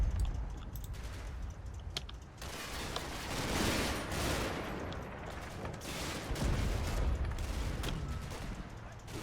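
Scattered rifle and machine-gun fire from a Normandy hedgerow battle in Combat Mission, crackling in irregular bursts at mid distance with a steady noisy battlefield bed, while someone talks over it.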